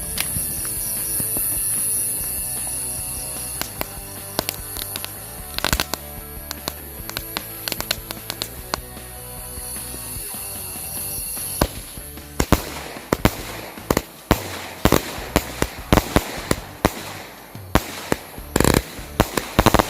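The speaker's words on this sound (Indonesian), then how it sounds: "ini yang selanjutnya kita nyalain mercon 5 element" A 100-shot five-element firecracker cake erupts in a long run of rapid bangs and crackling bursts, dense and overlapping at first, then sharper, more spaced loud cracks toward the end, with no talk.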